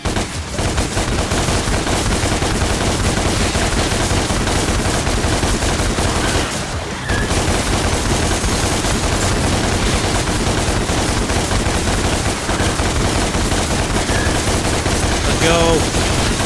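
Relentless gunfire during target practice in Devil May Cry, a loud dense barrage of rapid shots hammering on nearly nonstop with one brief gap midway, no talking.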